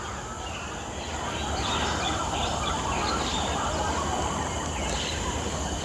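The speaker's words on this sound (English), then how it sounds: "a lot of birds chirping." Birds chirp throughout a nature park on a spring day, scattered calls and tweets rising over a steady hum of outdoor ambience, moderately distant and continuous.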